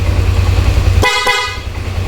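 Two short, loud honks from an upgraded loud horn on a Yamaha NMAX V1 scooter blare in quick succession over a steady low engine idle.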